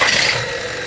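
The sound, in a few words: car engine idling with loud abnormal humming noise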